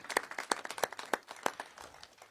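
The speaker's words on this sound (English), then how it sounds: "let's give them a round of applause" Sparse, quiet clapping from a small audience at a Wyler Aerial Tramway project event in El Paso, a handful of distinct, irregular claps fading out.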